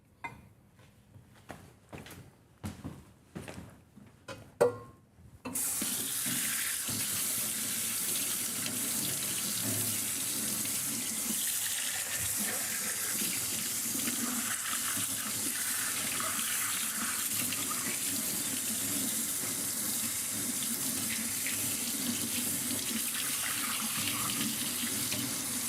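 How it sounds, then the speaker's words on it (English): Kitchen tap running steadily into a sink to rinse a soup ladle used for coconut cream pie custard, a continuous close water stream after a few seconds of brief clinks and handling noises. "we'll rinse off the ladle that I just used for the soup"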